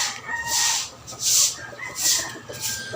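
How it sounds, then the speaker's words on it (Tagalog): Several chickens cluck and squawk in bursts close by, with a steady rustling farmyard background. "Mga manok ko."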